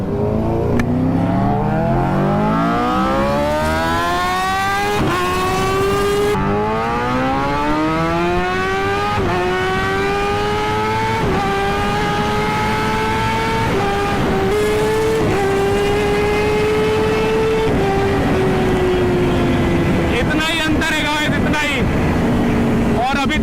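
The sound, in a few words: superbike accelerating through first gear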